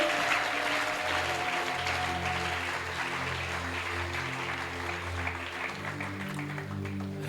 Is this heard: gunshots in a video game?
no